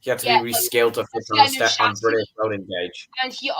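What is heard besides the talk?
None of the usual background noises is heard.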